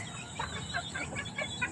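Farm chickens cluck repeatedly in short, overlapping calls over steady rural background noise, fairly close and moderately loud.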